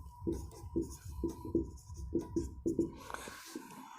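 Marker or chalk strokes on a classroom board as a teacher writes points, a quick run of short scratchy squeaks in clusters, close and fairly clear, with a faint steady hum beneath.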